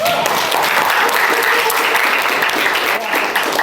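A school class applauds together, a dense and loud burst of clapping that carries steadily through the whole moment.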